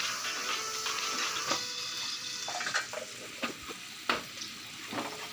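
Okra and shrimp stir-fried with chili powder, turmeric and salt give a steady sizzle in oil, broken by repeated scraping clicks of a spoon against the pan, with no talking.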